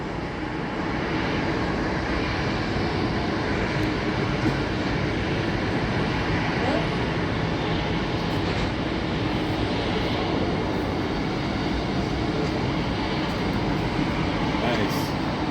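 MD-11 airplane landing at Seattle, heard from inside the ATC tower as a steady broad roar at moderate distance, continuous and even throughout with no distinct peaks, while people talk over it.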